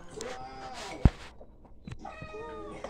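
A cat meows several times nearby in short, quiet calls, with a soft thump partway through.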